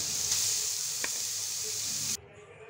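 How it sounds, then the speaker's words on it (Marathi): Grated carrot dropping into hot ghee for gajar halwa sets off a loud, steady hiss of sizzling with a single faint clink midway, then cuts off abruptly to a quiet background. "साजूक तूप आपलं गरम झालेलं आहे, त्यामध्येच आपण खिसलेला गाजरचा खीस टाकून घेतोय।"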